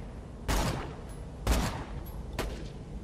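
Three sharp sniper rifle shots ring out in Borderlands 2 co-op play, each a loud, punchy crack with a decaying tail, spaced roughly a second apart.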